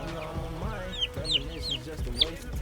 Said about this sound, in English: She is a light Brahma. That's the breed of chicken she is.